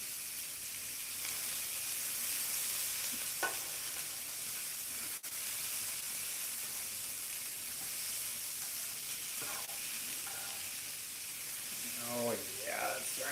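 Thin, thawed shrimp frying in a pan for a breakfast bowl, a steady low sizzle and hiss throughout, with a few brief clinks and soft voice-like sounds near the end.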